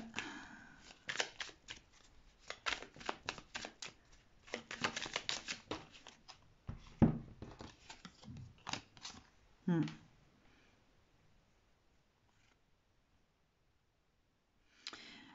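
Cards are shuffled and drawn in quick papery riffles and flicks for about ten seconds, loud and close, followed by near silence and one last faint card sound.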